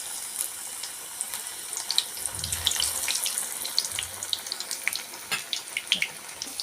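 Vada batter spooned into hot oil sizzles with a dense crackle of sharp pops and spits, close by, with a couple of soft dull plops as portions drop in.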